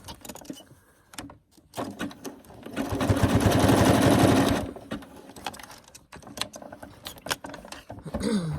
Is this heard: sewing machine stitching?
yes